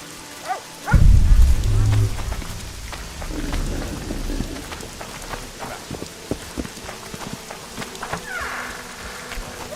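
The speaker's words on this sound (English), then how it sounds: "You said it would rain." Video game rain in The Witcher 2 patters steadily on a surface while a deep rumble of thunder rolls in early, then fades under the continuing downpour with scattered drips.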